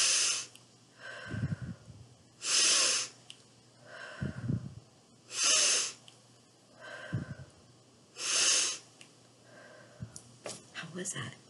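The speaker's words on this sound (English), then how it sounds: "We're gonna breathe." Slow deep-breathing exercise with several long, loud breath cycles, each a forceful rushing inhale or exhale at regular intervals, with soft murmured voice sounds in between.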